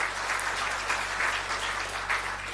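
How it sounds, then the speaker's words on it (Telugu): A congregation applauds at a sermon during a fasting prayer service, dense steady clapping from many hands throughout with no speech. "ఒకసారి చప్పట్లు కొడతామా?"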